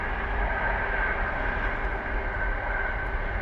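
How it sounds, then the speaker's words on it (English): A train rumbling past near a fishing spot in the UK, a steady broadband roar that holds at an even loudness from start to finish with no voices over it. "now we've got a train."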